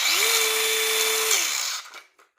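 A DeWalt reciprocating saw runs alone at close range, a loud steady whine that rises quickly at start-up, holds for about a second, then winds down and stops.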